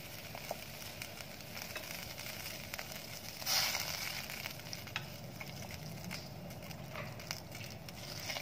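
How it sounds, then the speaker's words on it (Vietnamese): Red tilapia drops into a pot of boiling water for a sour fish soup. A steady bubbling hiss carries a single brief splash partway through. "Rồi sau khi nước đã sôi rồi thì mình sẽ cho cá vào nhé."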